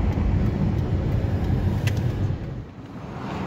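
A car drives along a road in the evening, a steady close road and tyre roar that eases off toward the end, with no talk.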